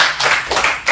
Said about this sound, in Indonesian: boleh tepuk tangan pertanyaannya